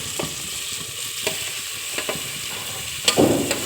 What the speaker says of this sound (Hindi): अब मैं डाल दूंगी तोरई